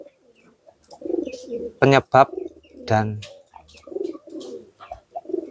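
Pigeons coo close by in a series of bursts, low throaty calls rising and falling, while someone speaks intermittently between and around them.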